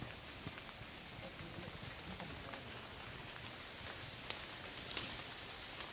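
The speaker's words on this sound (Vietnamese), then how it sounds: "Trời mưa quá mưa." Steady rain patters softly all around a forest, with a few sharper drops landing close by.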